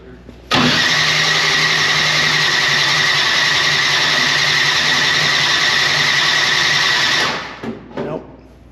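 A race car engine, a Lexus being prepared for a race, cranks and fires, then runs loud and steady for several seconds before cutting out and sputtering.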